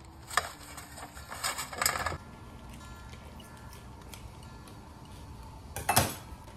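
A metal steamer pan for string hoppers is handled and oiled, giving a few faint clinks and taps early on, a soft hiss in between, and one louder metallic knock near the end.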